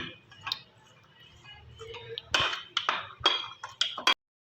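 A spoon scrapes and clinks against a bowl while chana chaat is mixed, the irregular close taps growing busier toward the end.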